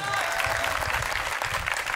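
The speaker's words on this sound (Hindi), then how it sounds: "5 मिनट 10 मिनट के लिए ताली बजाओ जोर से।" An audience at a Hindi comedy poetry gathering claps loudly and continuously, a thick, even burst of applause with a faint crowd murmur beneath.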